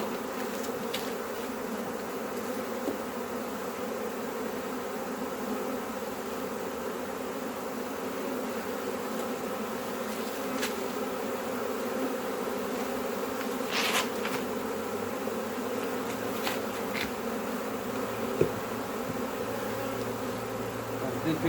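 A surprise swarm of bees in a garden gives off a steady, dense hum that holds for the whole stretch, with brief closer buzzes from single insects flying past.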